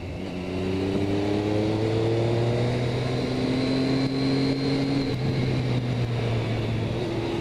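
A motorcycle is ridden with its engine droning continuously and pitch rising steadily as it accelerates through the gears, with rushing wind behind it.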